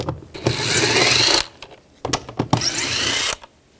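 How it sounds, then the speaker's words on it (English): A 7mm socket driver backs out mirror screws on a 2014-2018 GMC Sierra 1500 in two close, loud whirring bursts, separated by a pause and followed by a few small clicks and clatters. "Use a 7mm socket. Take that screw out."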